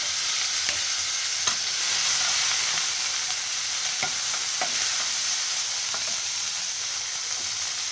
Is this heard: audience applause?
no